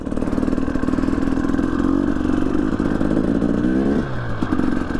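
Off-highway vehicle engine at an OHV camp, revving steadily and loudly up close with a rough mid-range drone, then a shift in pitch near the end as it pulls away.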